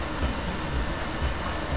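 A train runs in the video game Gang Beasts, giving a steady, dense rumble with faint rhythmic clunks, heard without speech.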